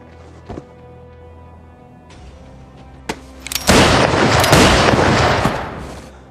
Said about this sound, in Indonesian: tiba-tiba salah satu dari 3 pembunuh menembak 2 pembunuh lainnya